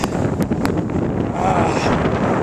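Strong, cold wind blusters through Chicago in winter, roaring across the microphone close and loud, with a voice faintly under the steady gusts.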